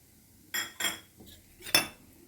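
A metal spoon clinks against a pot or bowl four times while mixing avalakki bath with lemon juice and peanuts, sharp close scrapes and taps with brief quiet gaps between them.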